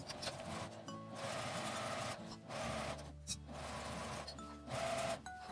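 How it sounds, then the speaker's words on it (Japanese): A sewing machine runs an edge stitch around a cut-cloth eco bag, humming continuously with brief pauses and restarts, close and fairly loud with no talking. "端ミシンを1周かけます。"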